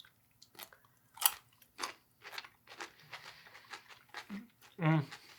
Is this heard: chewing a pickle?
yes